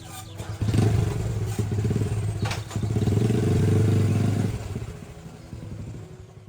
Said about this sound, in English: put on his helmet, and wheeled his motorbike out the gate